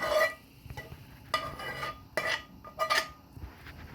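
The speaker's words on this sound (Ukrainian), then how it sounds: "Висипаю зажарку картоплю." A fried onion mixture cooked in butter is tipped from a pan onto potatoes in a pot, making a few short metallic scrapes and clatters of utensil against cookware, close by and fairly quiet, with no talking.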